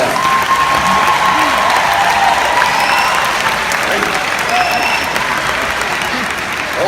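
Audience applause at a 2017 Stratford University commencement address, a steady, dense wash of clapping that stays loud and even throughout, with a faint cheer or two mixed in.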